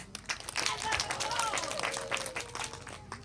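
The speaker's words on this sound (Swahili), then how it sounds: "naomba tujipigie makofi sana." An audience applauds at a community campaign event, with steady, moderately loud clapping and a voice briefly audible beneath it.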